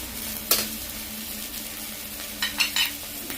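A ground spice paste with turmeric fries in hot oil as a low, steady sizzle, broken by a few short scraping stirs, close and fairly quiet, with no voices.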